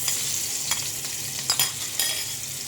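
Spiced marinade hitting melted butter in a very hot frying pan, a steady close hiss of sizzling with a few brief clatters and stirring scrapes, while Alexandrian-style liver is being cooked.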